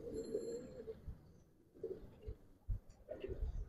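Low, throaty cooing from young Giribaz pigeons comes in three separate bursts with short pauses between them, quiet and close, along with scattered soft thumps.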